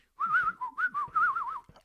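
A man whistles a wavering, warbling tune in short bursts, close and clear, imitating a drunk bird with wobbly pitch slides and brief gaps between phrases.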